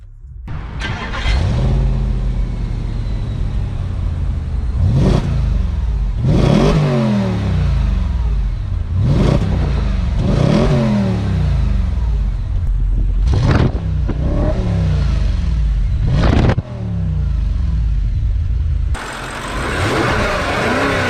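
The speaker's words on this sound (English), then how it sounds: "It's time to start the engine." An Audi RS5 V8 Quattro starts up and is revved repeatedly, each blip a loud rising roar falling back to a burbling idle, about six revs in a row, close and alone.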